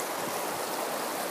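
A small mountain river flows near a campsite by a creek, a steady, full rushing wash of water with no breaks and nothing else standing out.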